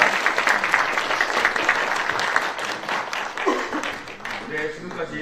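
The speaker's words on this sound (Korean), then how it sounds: "여러분 큰 박수 부탁드리겠습니다" Concert audience claps after a piano trio performance by an ensemble, a sustained, fairly close patter of many hands with some voices mixed in, tapering slightly toward the end.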